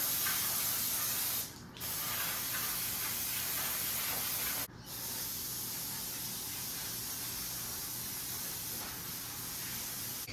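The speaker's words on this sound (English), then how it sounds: "quick little spray down" Steady hiss of a spray cleaner blasting down car parts from a 1937 Nash, a continuous loud spray with two brief breaks.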